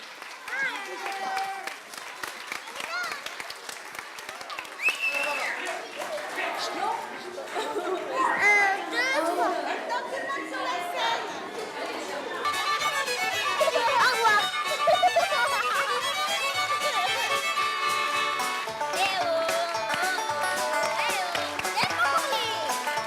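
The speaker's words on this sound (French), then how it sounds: "Arrêtez de crier." Children at a year-end school show shout and chatter excitedly, voices overlapping and rising into a loud, sustained clamor with scattered clapping mixed in.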